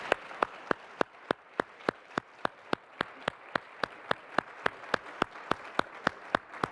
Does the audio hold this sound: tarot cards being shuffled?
no